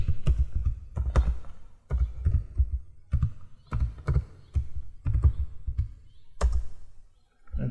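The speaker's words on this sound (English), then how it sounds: "And I'll type FTP." Keys clatter on a computer keyboard in short irregular bursts of clicky taps with brief pauses, close and moderately loud, while a command is entered at a network training workstation.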